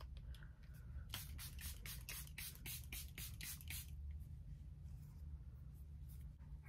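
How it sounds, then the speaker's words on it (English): About a dozen quick, close spritzes of a Charlotte Tilbury makeup setting spray bottle in a rapid burst, then quiet hand rustling afterward. "I've got the Charlotte Tilbury setting spray, the best setting spray that I have used."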